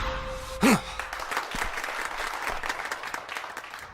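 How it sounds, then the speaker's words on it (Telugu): Crowd applause in an action film scene, a soft, steady spread of clapping that follows a brief vocal burst and continues quietly to the end. "నీ మటుకు నువ్వు సూసైడ్ అటాక్ అంటున్నావు, వాళ్ళందరూ చప్పట్లు కొడుతున్నారు"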